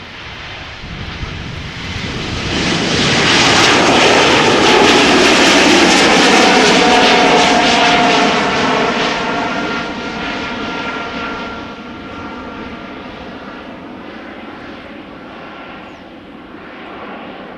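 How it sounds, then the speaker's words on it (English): A year-old KLM Embraer E2 jet departs for Göteborg from Schiphol's Polderbaan runway, its engine roar swelling to a loud peak with whining tones and then slowly fading as it climbs away, with no voices. "E2 Embraer to Göteborg, up next"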